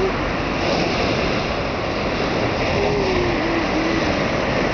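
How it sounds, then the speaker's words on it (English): Rough sea breakers roll in beside Southport Pier in northwest England on a stormy day: a steady, dense roar of surf mixed with gusting wind across the microphone, with no break. "Very rough weather here today, breakers coming in."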